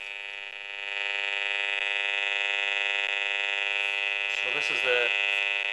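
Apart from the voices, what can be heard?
radiation meter beeping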